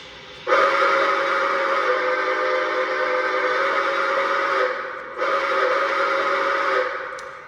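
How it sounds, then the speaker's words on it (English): A Lionel Legacy Greenbrier model steam locomotive sounds its whistle in two blasts, a long sustained chord followed after a brief break by a shorter one, loud and close. "this has 5 different whistles that you can choose from to customize your experience"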